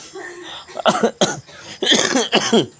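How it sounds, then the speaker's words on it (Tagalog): Several loud, close coughs from a person sick with flu and fever, in a rough sequence, a couple of them clustered together, with no talking in between. "Inuubo tayo na inuubo."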